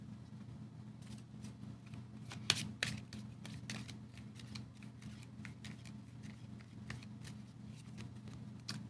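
Tarot and oracle cards are shuffled and drawn in faint, scattered papery flicks and taps over a steady low hum, with one slightly sharper snap near the middle.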